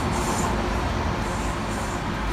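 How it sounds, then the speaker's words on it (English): A steady low rumble and hiss of a train passing nearby, constant and loud throughout the short stretch. "and excuse the train"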